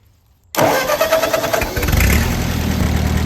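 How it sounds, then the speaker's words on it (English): A Ford 8N tractor engine cranks briefly after a moment of near silence, catches and settles into a loud, chugging idle, close by. "let's crank the tractor"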